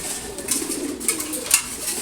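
Soft, continuous throaty cooing comes from nearby khaki pigeons at morning feed time, with a few light clicks and taps from the loft over the low burbling.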